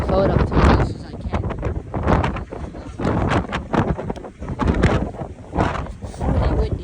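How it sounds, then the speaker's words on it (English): Heavy wind buffets the microphone in loud, rumbling gusts that rise and fall. "It's really windy up here"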